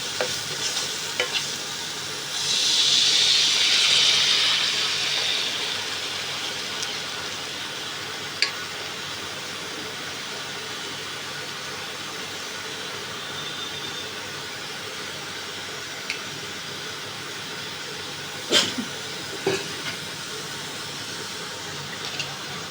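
Bathua greens drop into a hot pan with fish head, bursting into a loud sizzle for a couple of seconds before settling into a steady low frying hiss, with a few faint clicks of a utensil.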